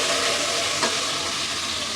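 Garlic paste hits hot fish oil in a pan for a ridge gourd dish, giving a steady, bright sizzle and hiss throughout, with a brief sharper spatter midway.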